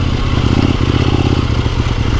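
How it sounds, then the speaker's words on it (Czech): Kove 800X Pro motorcycle engine running steadily at close range, a continuous low rumble with a slight mechanical clatter throughout and no talk. "A ten motor, ale na to, jak je vlastně na tom plynu takový protivnej, tak tu chvíli je prostě gumovej."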